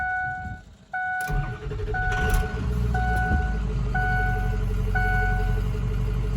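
A Ford 6.0 Power Stroke diesel truck on recharged batteries cranks briefly, catches and settles into a steady low idle. A dashboard chime beeps repeatedly, about once a second, throughout.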